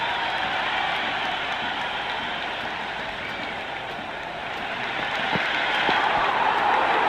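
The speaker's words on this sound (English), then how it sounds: "The crowd is electric right now." Stadium crowd in the cricket video game Cricket 26 roars and applauds after a six is struck, a broad, steady wash of distant cheering and clapping with no talk, rising slightly toward the end.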